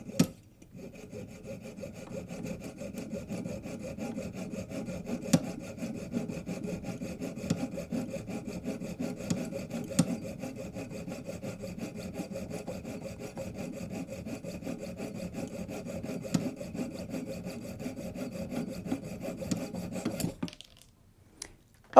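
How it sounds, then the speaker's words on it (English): A jeweler's saw is drawn back and forth through hardened steel at the bench in a steady rasping rhythm, close and continuous for about twenty seconds before stopping abruptly. "start by using your best cutting tool, your jeweler's saw"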